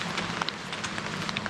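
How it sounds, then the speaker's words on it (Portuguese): Rain falls steadily on the Camino de Santiago near Triacastela on a cold early morning, a dense, continuous hiss with close scattered drops pattering on surfaces. "E estamos saindo com chuva."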